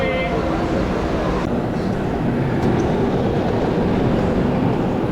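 The Sampark Kranti Express pulls out of Chennai Egmore station, heard from on board as a loud, unbroken rumble and rattle of wheels and carriages that stays dense and steady throughout.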